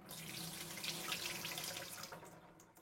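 Soaked cashews rinsed under a running tap into a sink, a steady rushing stream of water for a few seconds, fading slightly at the end.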